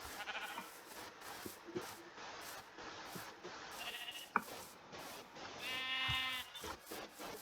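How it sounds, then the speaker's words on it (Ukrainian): Sheep bleat in a Minecraft world, several short wavering calls scattered over a quiet background of game sounds, moderately close and heard without talk. "дуже багато овець"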